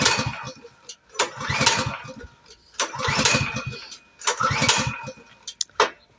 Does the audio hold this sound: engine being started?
yes